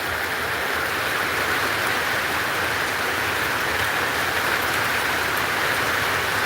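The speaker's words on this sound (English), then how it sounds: "it is raining like crazy out here" Heavy rain pours outdoors in North Georgia in a dense, unbroken roar, loud and even throughout with no voices.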